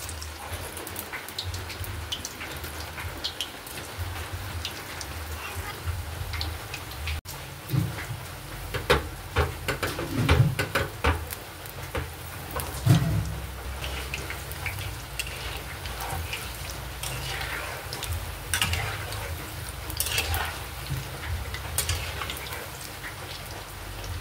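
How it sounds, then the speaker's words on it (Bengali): Palm-fruit pitha (taler pitha) frying in hot oil over high heat, a steady fizzing sizzle with scattered crackles and pops throughout. "এবার লো আঁচে নয়, হাই আঁচেই ভাজতে হবে এই পিঠেগুলো।"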